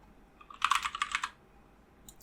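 Quick clicking keystrokes on a computer keyboard, a short burst of about ten close taps, then a pause and a couple more clicks at the end, with no talking.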